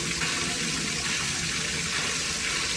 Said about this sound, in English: The lack of water is forcing pumps to sputter like this.